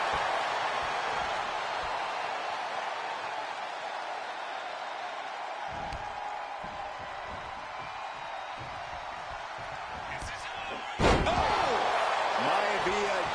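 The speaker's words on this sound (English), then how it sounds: "Textbook scoop slam." Scoop slam in the WWE 2K25 video game, a single sharp heavy impact on the mat near the end, over ongoing crowd noise and commentary.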